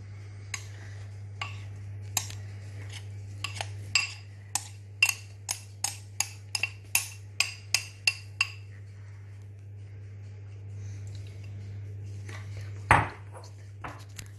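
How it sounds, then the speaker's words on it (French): Dry ingredients being stirred into liquid ones for a chocolate banana cake batter, a utensil clinking against the bowl in a quickening run of about a dozen light pings, then a quiet pause and one louder knock near the end. "Maintenant, on va mélanger les ingrédients secs avec les ingrédients liquides."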